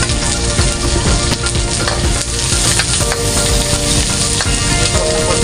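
Onion, chili and ginger frying in a hot pan give a loud, steady sizzle and crackle that runs throughout, with stirring noises and no talking.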